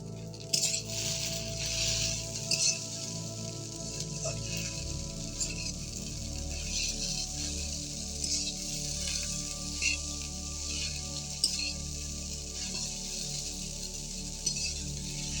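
Chopped onions hit a hot pan for a vegetable Maggi, giving a soft, steady hiss and crackle with occasional small pops and clinks, fairly quiet and close.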